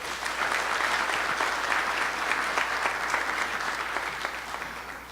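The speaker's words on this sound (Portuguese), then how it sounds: "Palmas para todos nós." Audience at a technology and social control conference in Brazil applauds steadily, a dense wash of many hands clapping throughout, loud and sustained, fading slightly toward the end.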